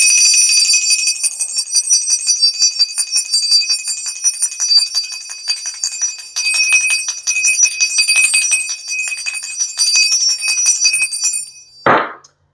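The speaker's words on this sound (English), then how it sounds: "Every time the bell rings, the blessings flow." A bell rings rapidly and continuously for about eleven seconds, a bright shimmering metallic peal, then stops with a low thud at the end.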